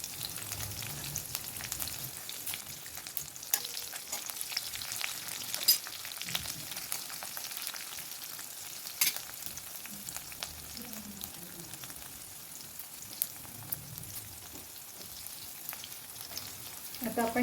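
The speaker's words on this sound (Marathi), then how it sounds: "7-8 पानं कढीपत्त्याची टाकतोय, ही 3-4 मिरच्या मी कापून घेतल्या होत्या छोट्या त्या टाकतोय." Curry leaves and chopped green chillies frying in hot oil for pohe, a steady close crackling sizzle with occasional sharper pops throughout.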